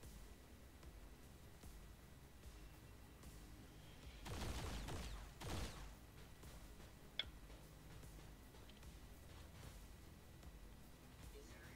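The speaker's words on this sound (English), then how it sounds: "More explosions!" Explosions and gunfire in the video game XCOM 2, a short cluster of heavy blasts in the middle of a quiet stretch, then a single sharp crack, faint beneath a low background.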